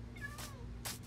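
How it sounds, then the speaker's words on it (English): A Minecraft cat gives two short high meows in quick succession, faint against a steady low hum, with no talk over them. "Hey, cat. You are a crazy one."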